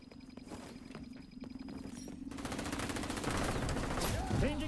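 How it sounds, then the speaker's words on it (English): Gunfire in the PS5 shooter XDefiant: rapid bursts of automatic fire that swell into a dense, sustained volley, loud and close, with some game speech underneath. "Looks like the shooting started already."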